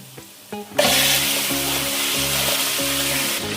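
Two mutton chops drop into hot oil with chopped onion and cinnamon pieces and at once burst into a loud, close, steady sizzle, following a few soft knocks, under a low rhythmic hum.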